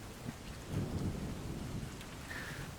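A thunderstorm in mountain foothills by a river: a deep, rolling rumble of thunder swells and fades over steady rain, with no voices.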